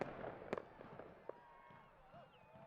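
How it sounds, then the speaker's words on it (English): Fireworks at a soccer stadium during a match: several sharp bangs and crackles, distant and fairly faint, over a murmuring crowd. "Fireworks courtesy of America First Credit Union."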